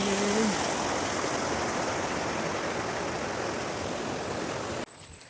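Water rushing down a hidden waterfall stream at Perum Chilambu near Kumarapuram, Kanyakumari district, a steady, loud roaring flow that cuts off abruptly near the end, with a brief voice at the start.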